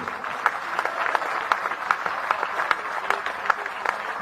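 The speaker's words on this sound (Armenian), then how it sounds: "ծափահարություններ Գյումրիին" Crowd applause at a political rally in Gyumri, a steady wash of many hands clapping with sharper individual claps standing out, loud and continuous throughout.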